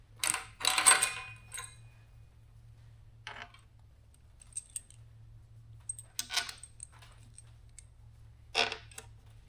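Metal bolts are handled during a Cummins engine swap, with a few sparse, bright clinks and jingles spaced out over a quiet, low hum.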